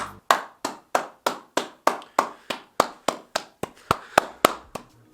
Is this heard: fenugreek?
no